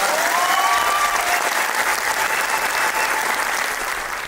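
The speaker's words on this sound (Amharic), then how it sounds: "አጨብጭቡ።" A crowd claps hands together at a presenter's prompt during a talk, a steady, dense wash of applause that fades slightly toward the end with no speech over it.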